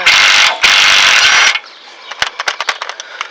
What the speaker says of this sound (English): To make this faster, I'll just use my impact little wrench here